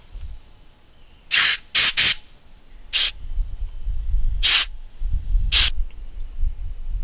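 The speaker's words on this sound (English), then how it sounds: "we'll want to blow some air through, make sure all the passages are clean" Sharp bursts of compressed air hiss loudly through the passages of a stripped-down Marvel Schebler updraft carburetor, six short blasts of uneven length, including a quick double, separated by quiet gaps.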